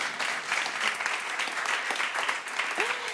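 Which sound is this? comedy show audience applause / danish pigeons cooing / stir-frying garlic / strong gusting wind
comedy show audience applause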